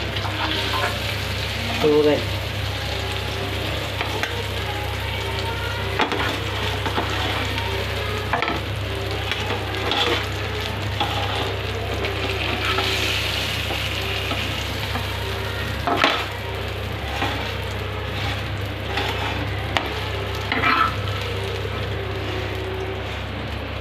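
Fish frying in a pan makes a continuous close sizzle, broken by intermittent scrapes and knocks of a spatula, with no talking.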